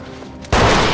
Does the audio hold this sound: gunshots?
yes